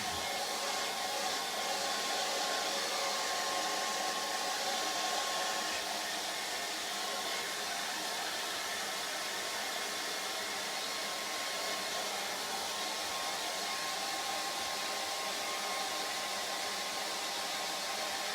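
A hair dryer blowing steadily over wet paint on a painting, a close, constant hiss of airflow that runs without a break and no voices.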